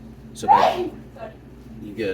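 A single sharp human sneeze bursts out near the microphone amid a person talking, followed by brief spoken remarks.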